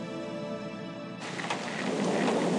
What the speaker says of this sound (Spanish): Lluvia, viento, sonido metálico, trueno.